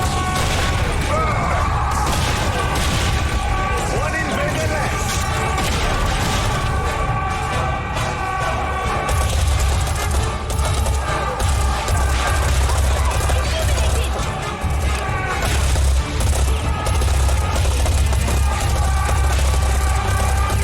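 Rapid gunfire and mechanical clatter from the shooter game Serious Sam 4, a continuous loud barrage with booms beneath, while someone talks over the action.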